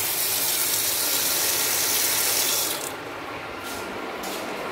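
A kitchen tap runs in a steady loud rush to soak vegetables, its hiss shifting and easing partway through as the flow changes.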